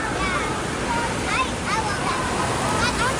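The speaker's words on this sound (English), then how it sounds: "Waves." Waves roll through an indoor wave pool at Great Wolf Lodge water park, a continuous loud wash of churning water with splashing and distant excited voices mixed in.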